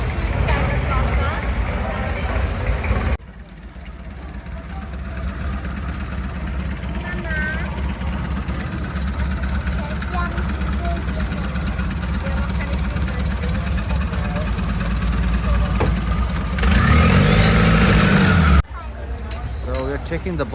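A boat engine idles with a steady low drone while people talk over it at Damnoen Saduak Floating Market, Thailand; the engine noise briefly rises louder near the end.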